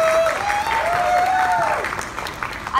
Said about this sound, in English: have a big round of applause for all of the performances